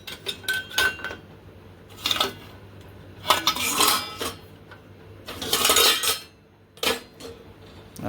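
Metal pots and steel dishes clatter and clink close by in a home kitchen as someone rummages for a cooking pot, in several loud bursts of jangling and scraping with short pauses between.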